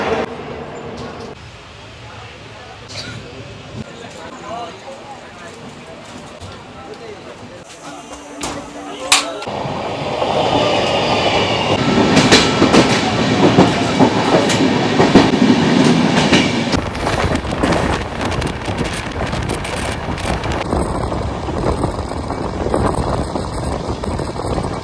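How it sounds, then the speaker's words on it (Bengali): A passenger train on the Kolkata to Dooars route pulls away from the station, its rumble building into a loud, steady rolling clatter of wheels on track, with voices in the carriage underneath. "একদম রাইট টাইমে আমাদের ট্রেন স্টেশন ছেড়ে দিয়েছে"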